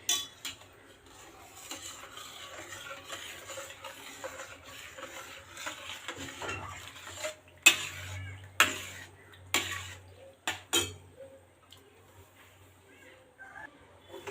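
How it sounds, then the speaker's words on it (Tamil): A spoon stirs ground sago into water in a cooking pot, with a soft background of scraping and then several sharp metallic clinks and knocks against the pot. A voice speaks now and then. "அதை வந்து இதில் ஊற்றி கிளறி விட்டுட்டே இருக்கணும்"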